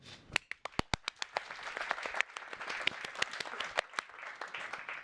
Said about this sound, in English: A big round of applause for these guys, please.